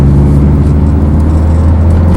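A 1993 Rover 220 Coupe's naturally aspirated engine revs loudly and close, a sustained steady drone with a strong low hum and no voices over it.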